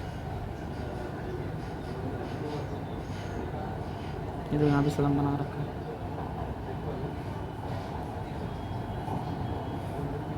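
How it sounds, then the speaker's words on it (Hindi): A Mumbai Metro train passes toward Poisar, a steady rolling rumble with a brief louder burst partway through, heard under someone talking. "जाती हुई मेट्रो पोईसर की तरफ।"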